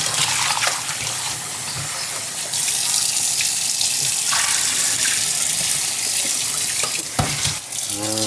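Tap water runs steadily into a kitchen sink as food is rinsed, a loud continuous splashing hiss broken by shifting gurgles and clatters as the stream is moved over the food.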